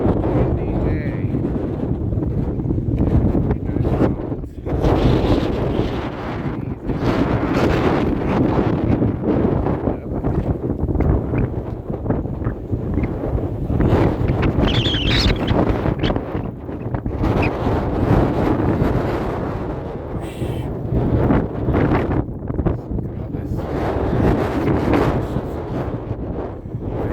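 Strong, steady wind roars and buffets the microphone on a desert yard in Twentynine Palms, with continuous rumbling gusts and rustling throughout and almost no quiet gaps.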